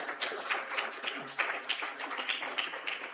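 Scattered applause from a conference audience at a European cybersecurity certification event, moderate and somewhat uneven, individual claps audible within a light, steady patter of hands.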